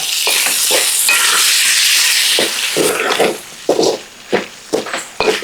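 Beef tongue pieces get stirred in a hot pan with fish oil and butter, a loud continuous sizzle broken by repeated scraping strokes of a spoon, growing choppier toward the end.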